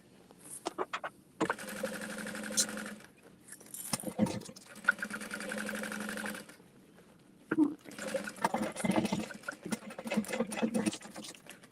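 A sewing machine stitches a beauty bag in several runs, each lasting a few seconds, with a steady mechanical whir. Short pauses separate the runs, and small clicks and handling noises fall between them. The machine is near and fairly loud.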